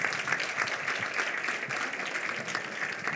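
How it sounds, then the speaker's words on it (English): Audience applause at a South African event on heritage brands, steady dense clapping from a crowd that holds at a moderate level without a break. "please could you give them a round of a hand of a clap"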